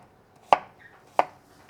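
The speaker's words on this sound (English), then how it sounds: "So we're chopping the onions and the" Two sharp knife chops on a cutting board as onions and ginger are cut for a spicy jollof rice blend, spaced about two-thirds of a second apart, close and clear with no talk.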